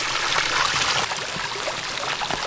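Steady broadband rush of a dirty river flowing, continuous and fairly loud with no clear speech.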